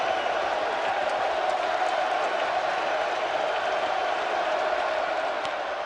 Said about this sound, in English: The crowd was chanting Roger